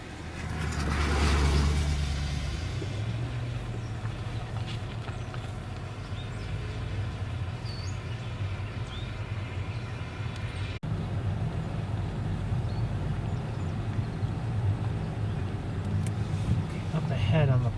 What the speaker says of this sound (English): there's a car behind me. I'm going to let it pass